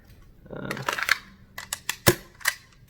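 Several sharp, quiet clicks and snaps from an MK23 pistol fitted with a proprietary suppressor and stubby conversion kit come close together, with one crisper crack standing out among the lighter mechanical clacks.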